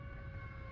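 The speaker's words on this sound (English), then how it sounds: "I hear an ambulance and stuff going on in the background of my city" An ambulance siren wails outside in the city, faint and distant, a steady sustained tone heard only briefly.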